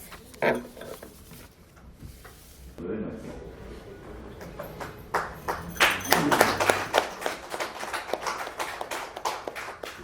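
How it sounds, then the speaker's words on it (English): Audience applause at the unveiling of the book 'Babu' by N. Shivdas, starting as scattered claps and building into dense, steady clapping in the hall, with some voices heard early on. "to kindly unveil the much anticipated book, Babu, amidst the round of applause"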